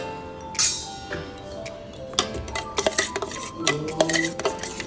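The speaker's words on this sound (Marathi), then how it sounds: "हे व्यवस्थित पळीने छान मिक्स करून घ्यायचं" A metal ladle scrapes and clinks against a pot of dosa batter in irregular bursts, with sharp ringing taps and a thick stirring sound.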